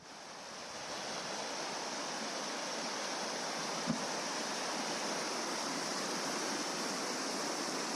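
Water pours steadily over a weir on the River Bure at the site of an old lock with a three-foot drop, a continuous broadband rush that holds constant and close throughout, with no voices.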